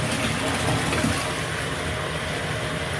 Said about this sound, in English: we will definitely have some loud noise from the water.